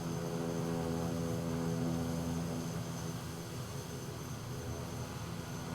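Steady propeller drone of a Daher Kodiak 100 Tundra single-engine aircraft in a flight simulator game, a continuous loud hum with strong low harmonics holding level throughout, no talking.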